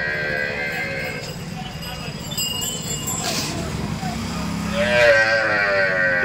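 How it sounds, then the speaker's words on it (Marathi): Gir cows tied in a shed at a cattle market in Dhule, with a steady background din, a few animal calls and a busy market bustle, while voices talk nearby. "पूर्ण गाय बांधलेली या ठिकाणी शेडमध्ये, कमी 10-15 गाय आहेत"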